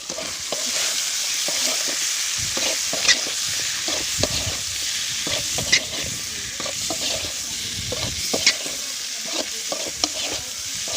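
Raw banana pieces frying in oil with chili powder, stirred continuously in a village kitchen pan, with loud close sizzling and frequent scraping, clattering stirs throughout and no talking.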